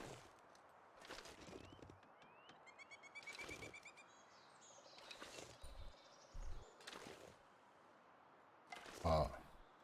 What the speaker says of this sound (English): I don't know exactly what bird that was, but I recognize that sound.